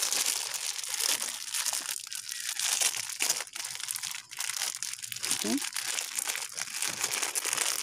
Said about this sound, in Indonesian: Lepas tu kita tutupkan tanah ni dengan plastik tadi.